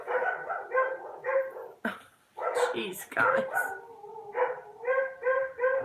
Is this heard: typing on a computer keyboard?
no